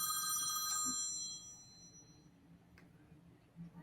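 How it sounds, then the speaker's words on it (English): A cell phone rings with a bright, repeating electronic tone, loud at first and then fading after about a second and a half, leaving low background murmur with a faint click near the end. "I got my cell ringing."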